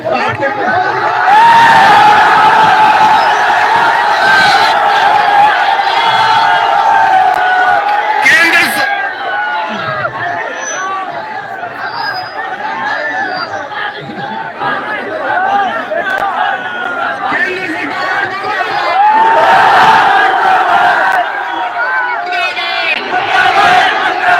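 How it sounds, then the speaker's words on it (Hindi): A large student protest crowd at a sit-in in Sikar, loudly chanting slogans against the central government over exam rigging, with rhythmic mass shouting, cheers and chatter running continuously close by. "मैं दो नारे लगाऊंगा।"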